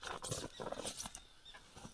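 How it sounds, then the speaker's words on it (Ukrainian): Light rain begins to patter outdoors near a quarry and spoil heap, a soft, irregular scattering of small taps close by that runs steadily for the whole stretch with no voices. "починається такий трошки дощик"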